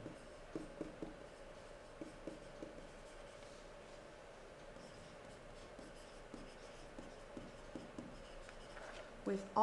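Pen or pencil writing out a multiplication expression of prime factors on paper, heard as soft, scratchy strokes in short irregular bursts, close and quiet, with a faint voice murmuring underneath.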